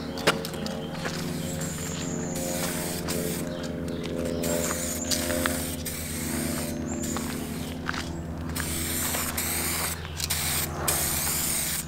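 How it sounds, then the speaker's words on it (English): A spray gun hisses steadily as it lays clear coat over powder-coated parts, a loud, continuous spray broken by short pauses between passes, with faint footsteps and shuffling nearby. "Three coats of clear on this piece here and three coats of clear."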